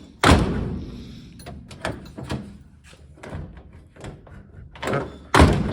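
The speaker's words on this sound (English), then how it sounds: "I can lock this door from the inside" Car door lock worked from the inside with the door handle on a vehicle with door panel problems: a series of sharp mechanical clunks and thuds, several loud knocks near the start and end, close up.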